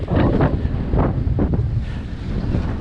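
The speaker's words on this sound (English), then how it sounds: "we are still making our way east in really nasty waves and wind." Strong wind buffets the microphone while heavy waves wash and slosh against a boat heading east in rough seas, a loud, steady rush with surging swells throughout.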